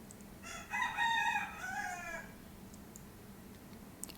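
A rooster crows once, a long harmonic cock-a-doodle-doo at moderate distance over a low steady hum, then quiet background.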